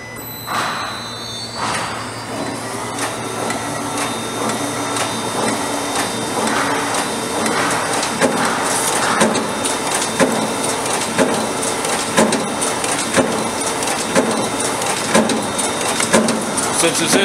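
A 2012 Sterling Digipunch automatic paper punching machine runs on heavy stock at its lowest setting, feeding one sheet at a time with loud rhythmic mechanical clatter and thumps, steady and close throughout.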